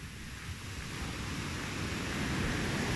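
Large waves near a river break and wash in a continuous broadband roar that swells slightly louder toward the end, with wind buffeting the microphone and no voices.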